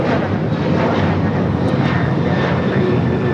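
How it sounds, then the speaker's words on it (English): United Airlines Boeing 737-900ER taking off from LAX, a loud, dense jet engine roar that stays close and steady throughout, with a thin high whine riding over it. "This is United Airlines 1571 taking off to Houston Intercontinental on the 737-900ER"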